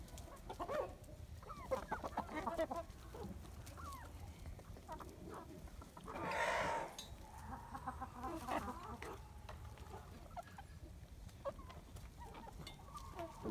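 Chickens, including a dark Brahma rooster, cluck and murmur steadily nearby, joined by a short louder squawk midway, with soft rustling throughout.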